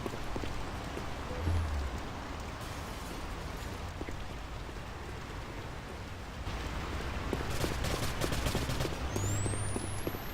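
Steady rain pours down in a continuous dense hiss, loud and close, with no voices and a few sharper bursts mixed in.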